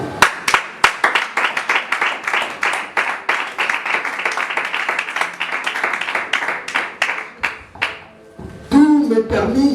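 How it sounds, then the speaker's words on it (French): A church congregation claps together in a dense, rhythmic burst of many hands that runs steadily for about eight seconds, then fades out as a louder voice begins speaking near the end. "Acclamons la parole de Dieu."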